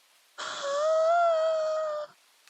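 A single long, clear meow from a cat in an indie horror video game, drawn out for well over a second against near silence, smooth and tonal like a synthesized game sound.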